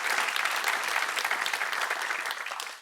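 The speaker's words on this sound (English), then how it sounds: "We are clap happy, this show." Studio audience clapping on the Pointless quiz show, a bright, dense burst of applause that holds steady and then tapers off at the end, with no voices over it.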